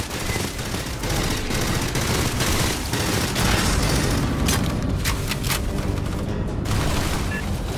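Dense, rapid automatic gunfire from the video game Aliens: Fireteam Elite rattles on almost without a break, with a few sharper bursts standing out near the end.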